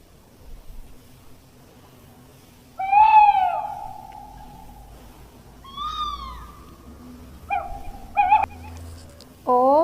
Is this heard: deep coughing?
no